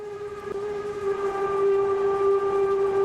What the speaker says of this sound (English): Ah, I can blow the whistle from the fireman's chair.